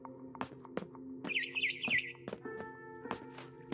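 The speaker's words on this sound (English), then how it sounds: "Then I heard chirping outside my window." A barn swallow chirps outside a window in What Remains of Edith Finch, giving a short, bright warbling call in the middle of soft sustained game music and scattered clicks.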